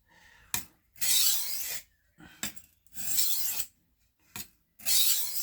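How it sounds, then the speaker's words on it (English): A steak knife is drawn across a whetstone in three long, even grinding strokes, each starting with a sharp scrape or tap, close and clear with pauses in between and no voices. "This is how I sharpen my knife."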